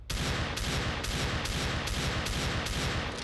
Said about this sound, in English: it fires pretty slowly compared to the, for example, 250 CZ.